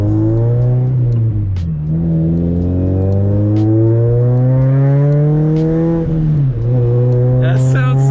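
Ford Mustang CS400 fitted with ACE headers revving loudly and continuously, a deep harmonic engine note climbing and dropping in pitch with rises around the middle and a dip near six seconds, close to the microphone with no talking.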